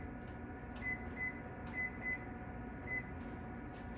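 An oven timer being set gives several short electronic beeps in quick pairs and singles over a steady low kitchen hum, with no talking.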